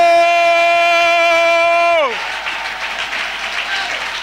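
A church congregation applauds and cheers at a prayer service, a loud broad wash of clapping and voices that swells in right after a sustained held tone cuts off with a falling glide.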